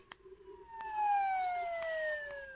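A wailing ambulance siren from the Life Together game sweeps downward in a smooth electronic tone, loud and close, with a few short clicks near the start.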